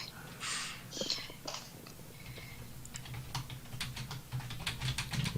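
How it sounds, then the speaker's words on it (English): Rapid clicking of a computer keyboard as someone types out a tweet, irregular bursts of keystrokes fairly close and clear over a low background hum, with murmured voices faintly in the mix. "This is the composing a tweet sound coming from Kurt."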